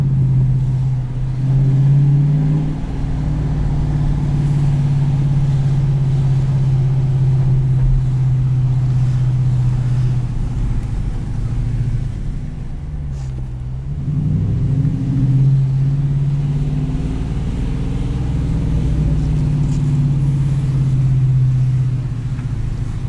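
2018 Dodge Challenger T/A Plus automatic held at higher RPMs, a loud sustained engine drone that rises, dips briefly midway and climbs again, heard from inside the car with no talk.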